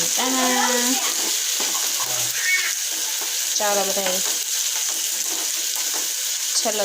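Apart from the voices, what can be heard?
spices tempering in hot oil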